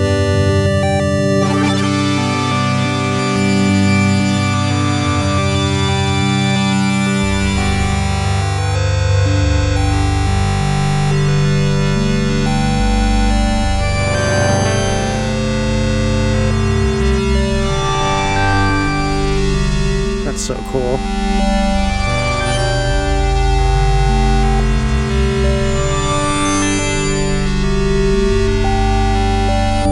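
Drone from a Make Noise Multiwave wavetable synthesizer set to pure sine wavetables spread across its voices, a dense sustained tonal bed held steadily at full volume for the whole stretch, with a brief voice speaking over it near the start.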